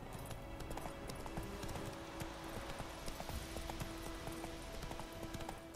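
Rhythmic horse hoof clip-clops in The Witcher 3 patter steadily under a constant low hum and background noise, quiet and fairly even in pace.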